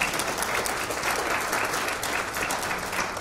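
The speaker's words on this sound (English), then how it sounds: "They deserve an applause." An audience at an event celebrating a youth art exhibition applauds steadily, a dense, even patter of many hands that is moderately loud and continues without talk.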